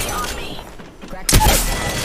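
Gunfire erupts in a squad-based shooter video game, a sudden loud burst of shots following a quieter stretch of background game noise, with a voice speaking near the start.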